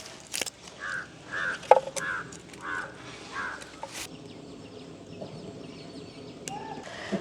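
Several harsh crow caws ring out in the first few seconds, spaced irregularly over a noisy outdoor background, then fade to quieter ambience.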